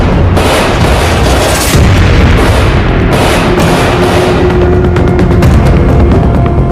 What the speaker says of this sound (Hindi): पूरे दिन गोलीबारी होती रही।